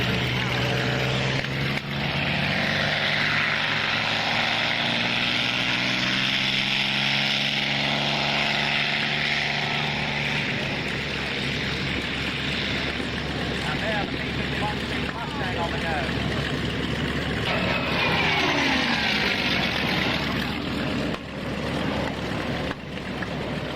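A propeller aircraft engine taxis past with a deep, throaty drone, loud and steady with a pitch shift as it passes, while someone talks over it.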